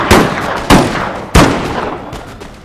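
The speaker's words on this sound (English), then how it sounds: "over here now we should get some volley fire" Musket volleys crack out in Empire Total War, three sharp, loud discharges spaced about half a second apart, each followed by a rolling, decaying rumble.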